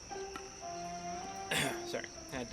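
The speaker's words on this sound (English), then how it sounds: "I had to kind of clear my throat there" A person clears their throat in a short, rough burst midway through, over a steady tonal background of game music and electronic hum.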